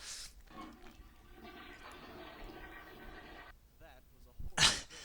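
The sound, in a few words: toilet flush sound effect in animated video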